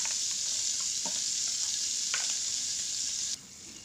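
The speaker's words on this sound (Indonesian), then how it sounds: "Sambil diaduk-aduk ya" Spice paste for duck rendang frying in a pan while being stirred, with a constant bright sizzle and occasional scraping strokes of the spoon; the sizzle drops sharply near the end.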